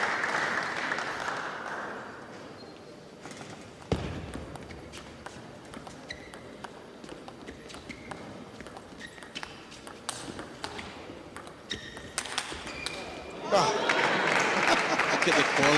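Spectators at a women's squash final at the World Open in Ekaterinburg, Russia burst into applause, a dense clatter at the start and again at the end, with light court taps and talk in between.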